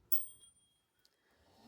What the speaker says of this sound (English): a brass bell